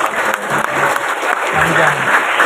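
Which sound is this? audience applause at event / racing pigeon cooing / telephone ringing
audience applause at event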